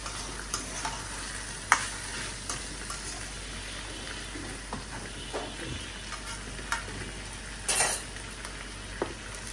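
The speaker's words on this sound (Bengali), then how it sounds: "আর এখানে চিকেনটাকে আর ঢাকা দিব না, এই দেখো উল্টা পাল্টা এখন শুধু ভাজবো" Chicken sizzles and spits in an iron wok, a steady crackling fry heard close up, punctuated by scrapes and clinks of a utensil stirring and turning the pieces, with no talking.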